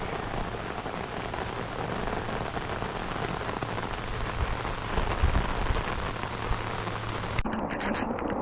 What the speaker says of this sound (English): It started raining and it rained pretty hard.